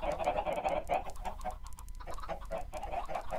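Minecraft chickens in a chicken farm clucking and squawking over and over in a busy, close chorus with no pause, with no voices.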